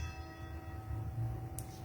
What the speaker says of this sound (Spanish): Suenan las campanas